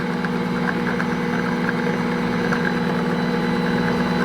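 A KitchenAid stand mixer churns tamale dough, a steady motor hum with a constant low drone and faint rhythmic ticking running unbroken throughout.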